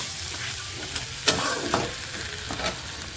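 A fish head fries with spices in a pan, giving a close sizzle broken by a few sharp scraping stirs and clinks of a spoon, with no talking.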